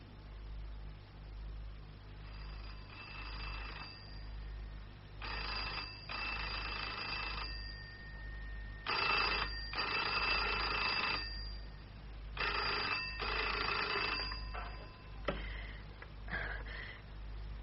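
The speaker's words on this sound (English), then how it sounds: "Why don't you answer the phone?" Old-style telephone bell ringing in repeated double bursts with pauses between, fairly close and clear over a low steady hum in an old radio drama.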